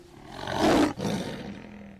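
A Bengal tiger roars once as a comedy sketch sound effect, a loud rising growl that swells, breaks off briefly, then trails into a lower rumbling tail, heard alone.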